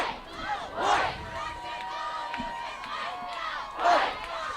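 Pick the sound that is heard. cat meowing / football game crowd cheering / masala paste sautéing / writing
football game crowd cheering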